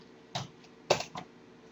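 A few quiet keystrokes on a computer keyboard, three or four sharp clicks spaced irregularly against a faint background hum.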